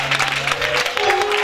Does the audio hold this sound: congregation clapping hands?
yes